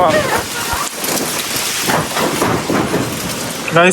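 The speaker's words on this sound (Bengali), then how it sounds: "প্রচন্ড জোরে বৃষ্টি শুরু হয়েছে" Heavy rain pouring down outside a gate during a storm, a loud dense continuous roar of drops hitting surfaces close by, with brief voices at the start and end.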